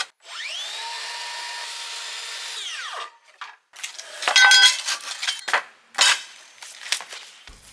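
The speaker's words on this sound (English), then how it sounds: "Next, I'm cutting out the aluminum base plates that I marked out earlier" A power tool cuts through aluminum base plates for a lamp build, whining steadily for about three seconds before spinning down, followed by irregular metallic clatters and scraping bursts close to the microphone.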